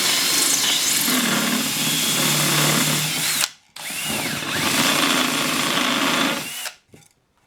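A power drill bores through a thick section of material in two sustained, loud bursts of whining, grinding noise, separated by a brief stop and ending with a short final blip.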